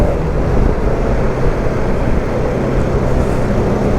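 A Zontes M310 motorcycle, rated at 35 horsepower, pulls hard under acceleration, with a loud, steady engine roar and dense wind rumble that carry evenly through the short run.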